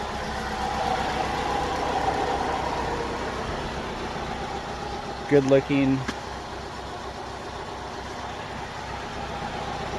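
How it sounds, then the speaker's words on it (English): A running car with about 130,000 miles, idling smoothly and steadily at close range under a continuous low hum, with a short burst of a man's speech partway through. "But this is a beautiful running car."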